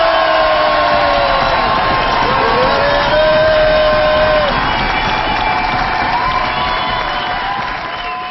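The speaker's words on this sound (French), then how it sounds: "On va vous applaudir le plus fort possible." A television studio audience on a French talk show cheers and applauds loudly and continuously, a dense wash of crowd noise with whoops that stays strong throughout and tapers slightly at the end.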